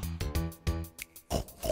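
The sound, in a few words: person imitating a pig's oink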